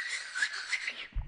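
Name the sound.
voice imitating whistling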